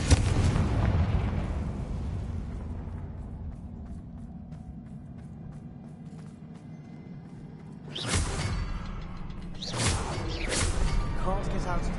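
Explosive blast from the Confringo fire spell in the video game Hogwarts Legacy, a loud booming burst at the start that rumbles away, followed later by two sharp whooshing bursts.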